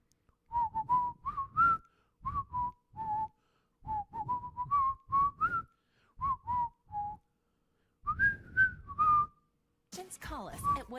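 A person whistles a bright, lilting tune in short clear phrases separated by brief pauses, close and unaccompanied.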